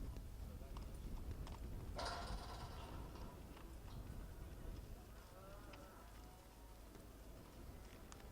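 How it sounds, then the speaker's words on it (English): Horse hooves clip-clop steadily on the ground as a horse moves into the camp at an open campdraft event, with faint background noise, an occasional whinny and a commentator talking throughout. "competitor 75, Ben Tapp, riding Bill, move into camp."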